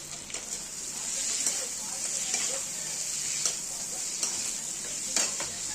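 Spices fry for an egg and potato curry, a steady close sizzle with occasional stirring scrapes in the pan throughout.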